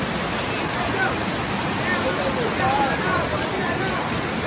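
Rainwater floods a street in Luanda during torrential rain, a loud, steady rushing roar of running water filling the scene, with faint voices talking beneath it.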